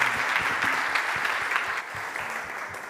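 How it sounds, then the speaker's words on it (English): Audience at a startup summit stage event applauding a winner, dense continuous clapping from a large crowd, fairly loud and even with no speech over it. "Big applause to Daniel."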